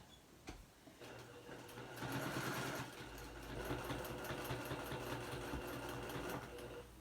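A sewing machine stitching raw-edge appliqué with fine piecing thread runs in a steady mechanical whir with rapid needle clatter, starting and surging close up, with no talk.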